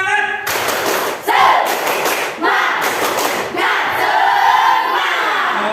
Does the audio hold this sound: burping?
no